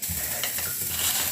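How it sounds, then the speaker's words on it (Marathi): Green chillies roasting in a hot pan give a close, continuous sizzle, with scraping and stirring noises throughout the short stretch. "हिरव्या मिरच्याही त्याच भाजून घेत आहे"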